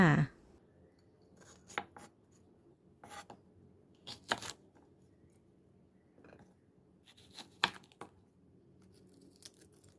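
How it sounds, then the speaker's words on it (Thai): Knife slitting young green chili peppers on a cutting board to remove the seeds, several short sharp cuts and scrapes at irregular intervals, close by with no talk. "มาเริ่มกันที่พริกก่อนค่ะ เป็นพริกหนุ่ม ผ่าแล้วก็เอาเม็ดออกค่ะ"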